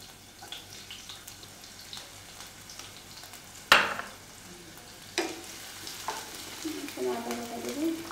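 Chopped onion added to hot oil in a pan, a soft steady sizzle with a sudden louder burst of frying, followed by stirring and scraping sounds close by.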